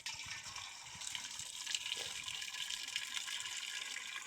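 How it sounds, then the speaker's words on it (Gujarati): High-pressure water gushes from a farm irrigation pipe at a castor field, a steady hissing rush that stays fairly soft and even from start to finish, with no one speaking. "બહુ પ્રેશર આવે પાણી"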